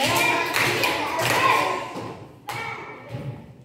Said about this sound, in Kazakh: 3 шапалақ соғамыз балдар.